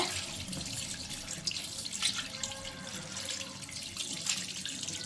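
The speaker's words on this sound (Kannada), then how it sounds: "ಆಗ ನೀಟಾಗಿ ನೀರಲ್ಲಿ ವಾಶ್ ಮಾಡ್ಕೊಂಬಿಡಿ." Silver jewellery rinsed under a running kitchen tap after being scrubbed with shampoo, a steady close splashing water stream with small irregular spatters throughout, no talk.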